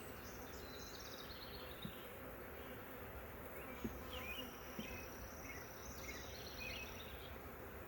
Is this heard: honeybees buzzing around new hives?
yes